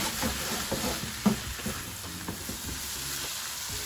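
Rice stir-frying in a pan with spinach and fried paneer, a steady close sizzle with soft scraping stirs and occasional light knocks, no talk.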